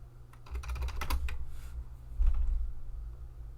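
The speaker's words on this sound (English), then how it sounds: "let's type something else in" Typing on a computer keyboard in a Linux terminal, a quick cluster of soft close key clicks followed by a few more taps and a low steady hum.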